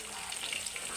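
Eggs frying in hot oil in a pan, a soft, even sizzle that stays faint and steady throughout.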